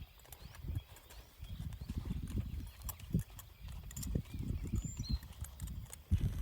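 A horse ridden in a hackamore, its hooves clip-clopping in an uneven walking rhythm, close and clear, with a few sharper hoof strikes and faint background sounds.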